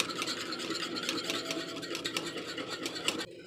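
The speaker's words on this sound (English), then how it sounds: "We'll go ahead and stir it so we can mix that butter in." A spoon scrapes and stirs through boiling homemade enchilada gravy with melting butter, a steady rasping, bubbling rub up close that stops suddenly near the end.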